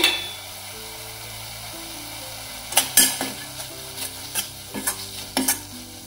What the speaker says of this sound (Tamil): கொதிக்க ஆரம்பிச்சிருச்சுங்க.